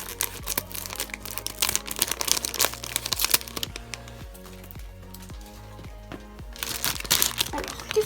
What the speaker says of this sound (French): Ce sera plus difficile à ouvrir avec les ciseaux parce que c'est plus grand